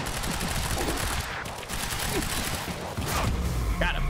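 Rapid gunfire from a shooter video game, dense bursts of shots layered over a loud, busy game soundscape, with sharper impacts near the end.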